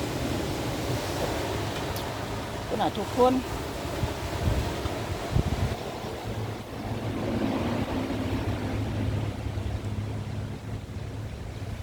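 Strong sea waves and gusty wind on a beach, a steady rumbling surf with buffeting wind noise on the microphone, while people talk briefly over it.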